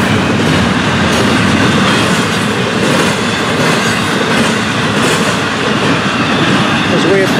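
A long intermodal freight train rolls steadily past close by at night, wheels clattering in a continuous rumble with rhythmic clicks and faint metallic squeals.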